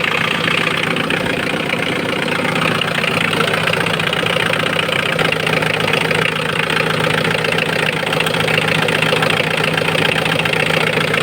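Engine idling steadily and loudly up close, a continuous dense rumble with an even mechanical chatter and no pauses or revving.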